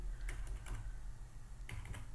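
Typing on a computer keyboard during a lesson on IF statements and sets, a few quiet clustered key clicks near 0.3, 0.7 and 1.7–2 seconds over a steady low hum, with no one talking.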